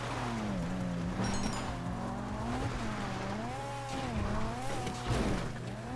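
Video game motorcycle in GTA Online revving with wavering engine pitch, tire squeals and a brief impact, all fairly quiet under game background sound.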